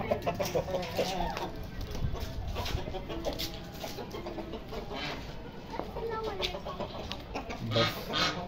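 Polish, Buff and Sebright hens cluck softly and steadily while pecking at scattered grain, with faint background voices and other farmyard birds nearby.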